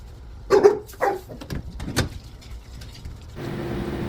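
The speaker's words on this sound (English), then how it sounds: "As you can hear, my puppies are playing in the background" Two poodle puppies playing at home let out a few sharp, close barks early on, followed by scattered thumps and shuffling, then a steady low hum settles in for the last seconds.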